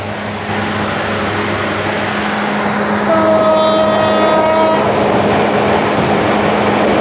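Steady loud rumble heard from inside a moving train coach, with a train horn sounding briefly midway.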